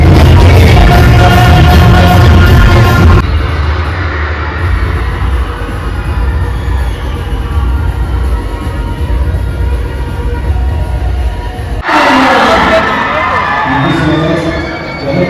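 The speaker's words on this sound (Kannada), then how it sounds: "ಇಲ್ಲಿ ಜನಸಂದಣಿ ಜನಜಂಗಳಿ" A large outdoor crowd roars and chatters loudly, a dense wash of voices with a burst of cheering toward the end.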